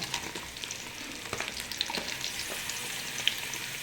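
Whole spices and mutton dum biryani ingredients roasting in hot oil in a pot, a steady close sizzle broken by scraping stirs and a few sharp utensil clicks, no voices.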